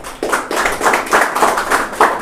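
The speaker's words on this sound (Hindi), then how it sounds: "तो क्यों ना हम आराधना टीम के लिए धन्यवाद है ताली बजा के।" A church congregation at a Sunday evening service claps for the worship team, a steady rhythmic round of hand claps with roughly even beats, close and loud throughout.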